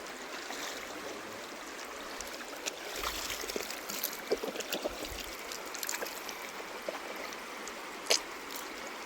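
Water flows steadily in an outdoor stream as a continuous broadband rush, joined by scattered splashes and a sharper splash near the end, with no voices.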